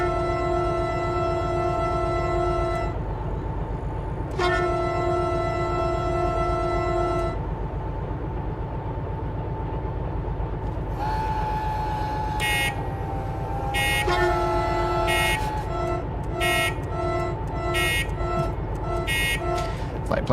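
A diesel locomotive horn in the Derail Valley train simulator sounds two long sustained blasts, then a wavering tone, then a run of short rhythmic toots, loud and close over a constant engine rumble.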